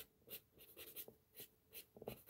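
Soft, dry rubbing of a cotton swab across graphite pencil shading on paper, drawing a phoenix, heard as a series of close, brushy strokes in an irregular rhythm with no talk.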